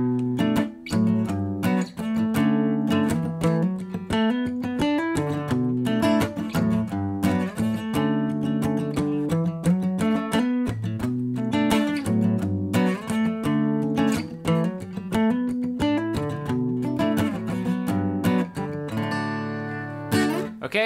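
Cort A6 acoustic guitar played solo and up close, mixing steady single-note scale runs with strummed chords in a continuous, even flow of bright plucked notes.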